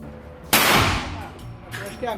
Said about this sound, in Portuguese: o deputado Jair Bolsonaro pratica tiro ao alvo em um clube de tiro em Miami